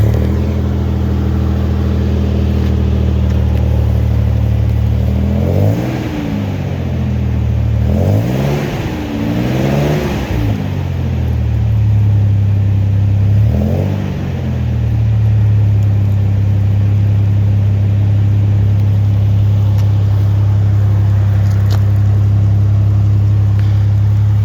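A supercharged 3.4 V6 Toyota 4Runner fitted with a 2.5-inch Magnaflow muffler idles steadily, then revs up in three close, loud throttle blips and a later fourth, settling back to a deep, even idle with no talk.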